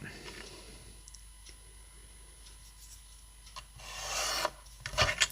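A pencil scrapes a line onto paper while a 3D autumn card is made, giving soft, close rubbing strokes with a few light clicks and a louder burst of scratching near the end.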